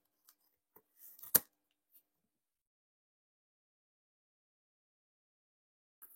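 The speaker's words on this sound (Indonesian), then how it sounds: "pakai gunting karena nggak ada" Scissors snip through a cardboard shoebox: one sharp, loud cut stands out, with a few faint clicks and rustles before it and a long near-silence after.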